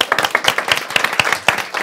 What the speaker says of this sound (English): I'm applauding to you.